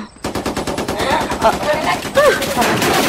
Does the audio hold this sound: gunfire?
yes